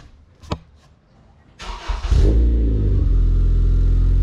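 Acura TL fitted with a new Si exhaust cranks and fires up, then settles into a loud, deep, steady rumble close by after a brief click and rising whoosh at startup, with no talk over it.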